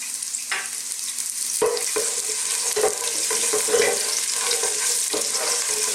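Ginger and garlic sauté in a small amount of oil for a Filipino chicken soup, a steady close sizzle with occasional stirring clinks and scrapes of a utensil, no talking.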